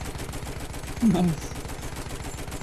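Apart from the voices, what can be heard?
gunfire in the video game Battlefield 1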